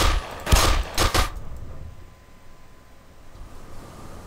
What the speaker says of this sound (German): Das war eine komische Explosion.